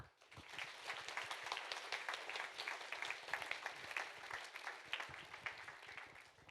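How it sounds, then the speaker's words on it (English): Audience at a Retina UK annual conference applauds its volunteers: dense, continuous clapping from many hands, faint and distant, sustained evenly for several seconds. "Please give a huge round of applause for our 5 amazing volunteers and Vanessa"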